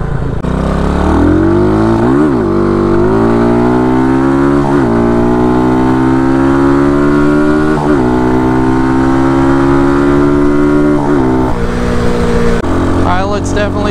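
An RPS Condor 150cc motorcycle fitted with a Nibbi 26mm carb and filter roars at wide open throttle, very loud and close, its engine pitch climbing steadily through the gears with brief dips at each shift.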